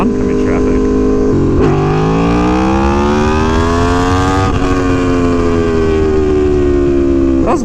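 An Aprilia Tuono V4 Factory motorcycle roars at full throttle, its engine note climbing steadily in pitch, dropping briefly at a gear change and then climbing again as it accelerates hard through second gear in a power wheelie, loud and close.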